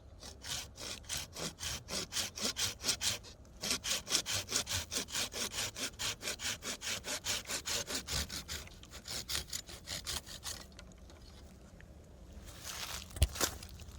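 A hand saw cuts through a tree branch during winter pruning, making close, rhythmic back-and-forth rasping strokes that pause briefly and then slow toward the end, followed by a few faint knocks.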